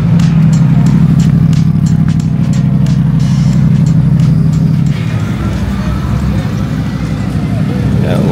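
Race cars including a Mercedes-AMG on track during a GT World Challenge event at Sonoma Raceway, with a loud, steady engine drone that shifts as a car passes nearby, while someone talks over it.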